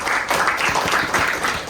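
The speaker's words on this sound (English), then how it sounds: "Round of applause, please, everyone." A Toastmasters club audience at a debate meeting claps in a round of applause, a brief, fairly close burst of many hands patting in a brisk, irregular rhythm.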